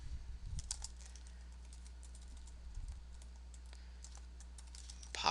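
Code being typed on a computer keyboard, a quiet, steady patter of close key clicks over a low background hum, with no talk.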